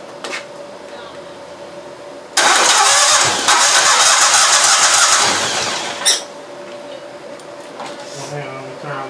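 A Green Eagle DFX61 paramotor with a Generac engine that is intermittently misfiring starts with a sudden loud roar and runs close and steady for about four seconds, then drops away to a quieter idle.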